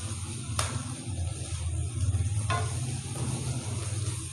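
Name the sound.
vegetables and masala sizzling while being fried in a pan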